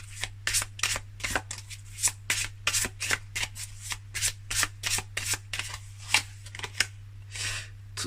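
Tarot cards being shuffled in quick, rhythmic riffling bursts, a steady run of close, crisp flutters over a low constant hum, with no one speaking.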